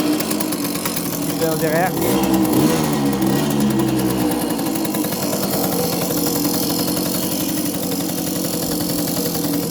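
A Renault 4CV engine is started and settles into a steady, close idle that runs throughout, with a brief rising rev early on and a person speaking over the engine.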